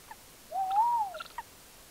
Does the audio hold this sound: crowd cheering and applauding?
no